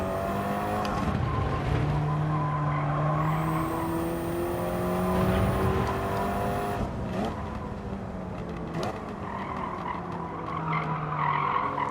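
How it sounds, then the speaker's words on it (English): Car tires squeal in long sustained tones under light braking while racing cars run closely together, engines droning loudly throughout with sharp skids layered over the steady motor noise. "So some of that squealing is fine. The tire noise, I mean."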